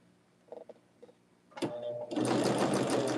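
A sewing machine stitches quilt block pieces, starting with a few soft clicks before it starts running and then a steady, loud mechanical whir that fills the rest of the clip.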